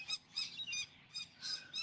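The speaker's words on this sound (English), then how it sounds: "I can hear some in this tree right above me. Can't see them at all. Where are you, birds?" Birds calling from a tree overhead: a quick series of high, thin chirps repeating about every quarter second, faint and slightly distant, with no talk.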